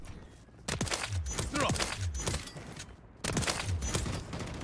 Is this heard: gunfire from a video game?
yes